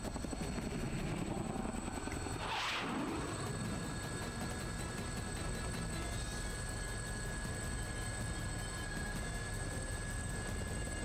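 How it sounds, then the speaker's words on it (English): Helicopter in Persona 4 Arena Ultimax giving a loud, continuous roaring rotor and engine drone throughout, with a brief rushing whoosh near the start as the aircraft shakes. "There's a deafening roar and the helicopter shakes madly but recovers."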